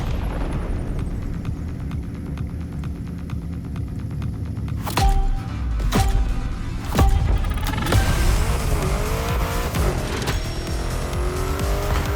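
A BMW drifting on a circuit in The Crew Motorfest, engine droning steadily before sharp bursts and long wailing tire squeals take over, loud and close with no talk.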